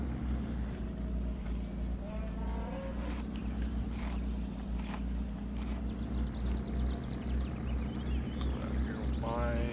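A tractor in a farming video game rumbles along with a steady, loud, low engine drone that holds throughout, with a voice talking over it.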